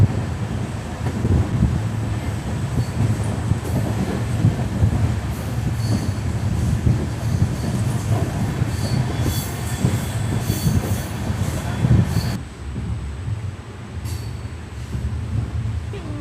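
Passenger train 22997 Jhalawar City–Shri Ganganagar pulling into Khesri Singhpur railway station, a loud, close rumble of rolling wheels and carriages with squealing and clattering, easing somewhat near the end.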